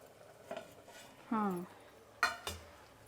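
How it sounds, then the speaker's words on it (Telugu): Cooked ragi sangati is stirred in a pot with a spoon, giving a few brief scrapes and clinks near the mic, scattered over a quiet background, with a voice briefly heard. "ఇప్పుడు సంగటి బాగా కలుపుకుందాము"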